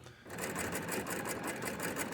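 A sewing machine stitches steadily along a quilt seam allowance, a close, fast rhythmic whirring chatter that runs unbroken after a brief quiet start.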